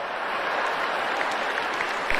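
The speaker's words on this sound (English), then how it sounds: "the crowd goes wild, by the way" Political convention crowd applauding and cheering in a large hall, a steady dense wash of clapping and voices that holds loud throughout, with a slight swell near the end.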